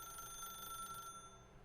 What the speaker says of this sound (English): when I hear the phone ring